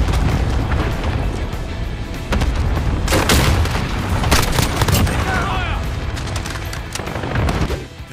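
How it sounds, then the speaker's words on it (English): Shotgun fire in the Modern Warfare video game, loud booming blasts repeated at intervals over a constant background of gameplay noise. "Sounds and animations for the shotguns in this game are awesome"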